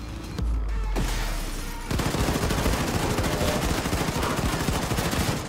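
Rapid gunfire fills the video game Wolfenstein II: dense, loud bursts of automatic shots run continuously, with a brief heavier blast at the start and a short pause before the shooting resumes.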